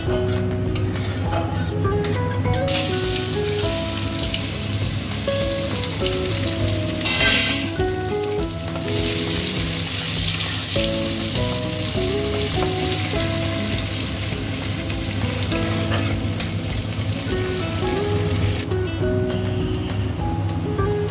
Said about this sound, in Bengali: আলু ভেজেছি ওই তেলের মধ্যে দিয়ে দিলাম